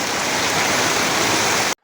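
Heavy rain during a hailstorm, a loud, dense, continuous hiss and clatter of falling water that stays constant before stopping abruptly.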